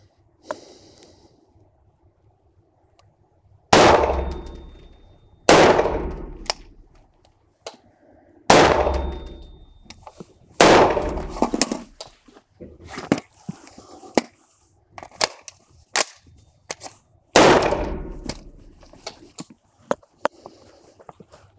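Sharp gunshots ring out at a shooting training range, several loud single reports with pauses between them and fainter echoing cracks trailing after, no talking.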